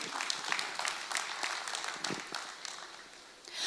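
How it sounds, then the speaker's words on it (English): Audience applause from people gathered in a room at a foundation day event, a dense steady patter of many hands clapping that fades slightly before swelling again at the end. "Can we all have a huge round of applause for all the stalwarts present around here in this room?"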